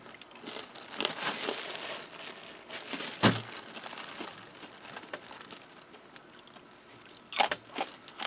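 Crinkly plastic wrapping of an MRE pouch of freeze-dried bananas being torn open and handled, with steady rustling throughout and sharper crackles near the start, middle and end, close by and with no talk.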